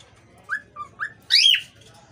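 Pet parrot calls nearby in short whistled notes: three brief chirps followed by a louder, longer shrill squawk, heard alone over faint background hum.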